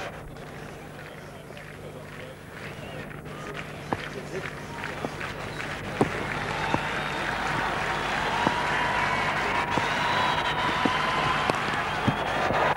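Cricket crowd at a 1997 Test match in Johannesburg, South Africa versus India, applauding a shot: steady distant clapping and crowd murmur beneath continuous commentary talk, with a few sharp knocks.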